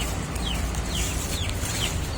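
Chickens at about 45 days old cluck softly on a farm, a few short calls standing out over steady, loud background noise, with no talking.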